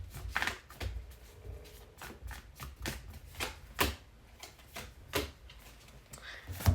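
Tarot cards shuffled on a table during a reading, a series of soft riffling slaps and flicks in an irregular rhythm, close and moderately loud with no talking.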